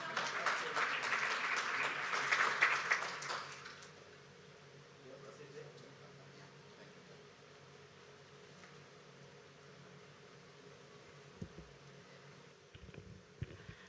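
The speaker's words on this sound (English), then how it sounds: "you can also give me a round of applause." An audience applauds at a campaign launch event, a broad wash of clapping for about four seconds that then fades out, with quieter room noise and faint talk afterward.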